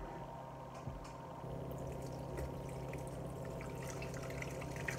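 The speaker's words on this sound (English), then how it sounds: "what I've got is just a mesh strainer with some cheesecloth in it to help strain it" Cooled bone broth pours through a mesh strainer lined with cheesecloth into a bowl, making a soft, continuous trickle and splash that holds steady throughout with no talking.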